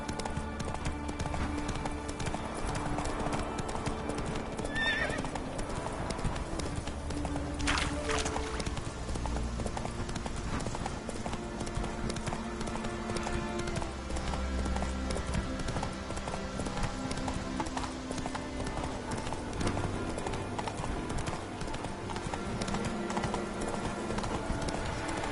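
Roach the horse's hooves clip-clop steadily and close for about 25 seconds in The Witcher 3: Wild Hunt, set within a dense, continuous game soundscape.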